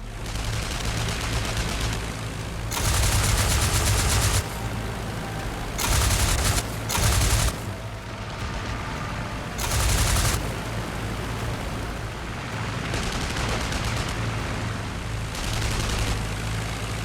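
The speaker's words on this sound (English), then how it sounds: "Firing his machine gun, he shot the SE-5 down" Machine gun fire from a WWI fighter plane in an aerial dogfight, heard as several loud sustained bursts of rapid firing separated by short pauses over a steady engine drone.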